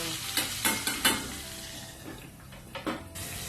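Puffer fish roe frying in a pan gives a close, steady sizzle, with a cluster of utensil clinks and scrapes early on and another pair of knocks near the end.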